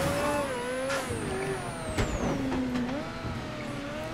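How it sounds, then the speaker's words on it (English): A turbocharged car engine in the video game Mafia 3 whines and hums steadily, its pitch rising and falling as the car drives, with a brief hiss midway. "I don't know where this car's like turbocharged sound came from"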